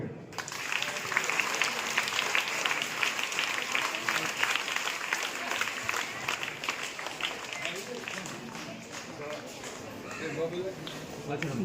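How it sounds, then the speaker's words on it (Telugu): Students at a school event clap continuously, a sustained, fairly close burst of applause with a rapid, uneven patter of many hands, and voices are faintly mixed in. "విద్యార్థులు క్లాప్స్ కూడా"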